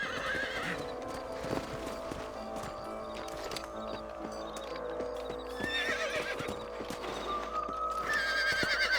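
Horses neigh and whinny over continuous clip-clopping hooves, set against a dense, busy background of sound effects in the video game Red Dead Redemption on PS5.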